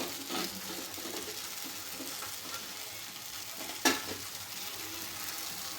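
Cashews and peanuts stirred into a pan of upma, a soft continuous sizzle with stirring scrapes and one sharp clink of a utensil partway through, close and fairly quiet, no talking.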